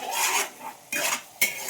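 Dried, slightly withered curry leaves dropped into a pan while making puliyogare, giving three short dry rasping, scraping bursts in a quiet kitchen.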